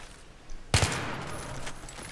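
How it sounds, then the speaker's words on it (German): Gunfire in Battlefield 3 gameplay: one sharp, loud shot, then a brief ringing tail and low background noise, with no talking. "Ich werde jetzt mal hier Unwritten ein bisschen in den Kopf schießen."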